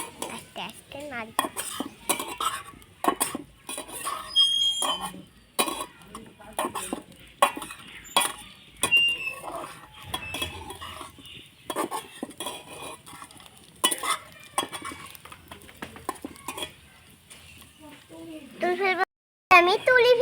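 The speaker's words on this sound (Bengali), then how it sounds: "আস্তে আস্তে নাড়ি।" Semai vermicelli stirred slowly in a metal pan, a steady run of close spoon scrapes and clinks against the pan, with someone talking over much of it.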